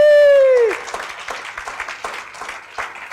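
A church congregation breaks into applause for Jesus, with a loud sung or called-out note at the start and then scattered, uneven clapping that fades to a moderate, rippling level.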